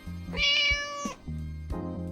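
A small pet cat meows clearly and close by, giving a long drawn-out meow followed by a second, shorter one, with nothing else audible around it.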